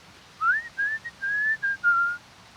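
A person whistles a slow, clear melody of about six sustained notes, close and alone in a quiet room, with no talking.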